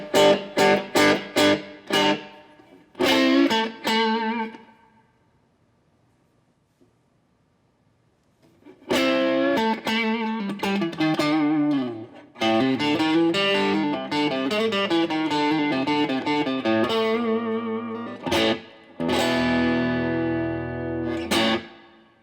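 Electric guitar played through an overdriven amp with gain and bass turned well down, mids and presence raised slightly and reverb on: a few quick strummed chords, a pause, then a longer stretch of ringing lead phrases and chords, close and clear, with no talking.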